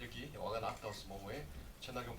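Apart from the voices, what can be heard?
No everyday noise stands out behind the speech.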